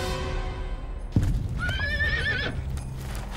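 A horse rears on an Arizona mountain trail, with a thud of hooves and then a loud, close, wavering neigh lasting about a second amid scuffling movement.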